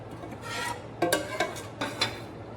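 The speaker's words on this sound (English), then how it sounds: "I'm just going to continue scooping this blackberry juice into this wire mesh." Blackberry juice being scooped from a pot into a wire mesh strainer gives soft scraping and clinking strokes, a few distinct scoops with quiet wet shuffling between them, close and fairly faint.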